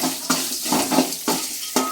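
Onions fry in a pan for a leg soup, with sizzling and a quick series of spoon or spatula scrapes about every half second, close and fairly loud, with no voices.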